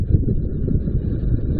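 Wind gusting across the exposed gritstone of White Edge, a steady low roaring buffet against the microphone with no pauses, loud and close throughout.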